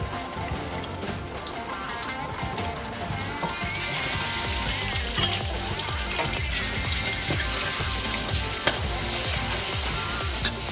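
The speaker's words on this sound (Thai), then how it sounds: "นี้เราก็เอาหมูสับนะครับ ที่เราคลุกเขากับปลายสี ลงไปผัดนะครับ" Minced pork mixed with fish stir-fried in an old wok, a steady dense sizzle with repeated rhythmic scraping strokes of the spatula, close and continuous throughout.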